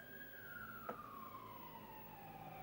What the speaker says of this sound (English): There's a police car outside.